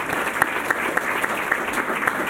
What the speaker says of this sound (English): give yourselves a round of applause for what you've accomplished